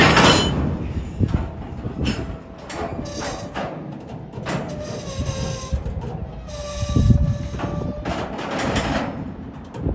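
A 9,000-ton intermodal freight train pulls away under rising throttle, with a deep rumbling engine, clanking and squealing wheels and car couplings, and scattered metallic screeches, heard from nearby trackside.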